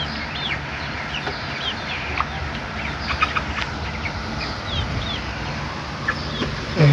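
Broiler chickens 33 days old in a hot shed give soft, repeated clucks and murmurs from many birds at once, a dense low chatter with a few brief wing flaps and calls over a steady background hum.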